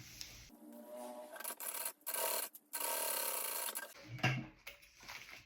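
A sewing machine stitches fabric strips for a bag, running in short close bursts that start and stop with quiet pauses between them.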